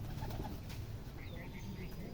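Giribaz pigeons coo softly in a loft in Rajshahi, low murmuring calls that sit faint beneath a rumbling background.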